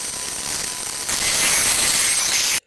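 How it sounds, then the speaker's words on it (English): A steady, loud mechanical whir of a bandsaw cutting out a wooden fingerboard shape, rising slightly partway through and stopping abruptly at the end. "I'm going to use a bandsaw because I have one."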